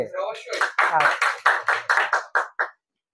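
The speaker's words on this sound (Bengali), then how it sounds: "আজকে ক্লাসের জন্য কি একটা হাততালি হবে?" A classroom group claps in a quick, even rhythm during an electronics training lesson on rectifiers: about ten sharp, loud claps with a few voices mixed in, then sudden silence.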